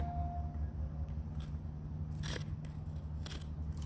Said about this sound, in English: and the mesh gets cut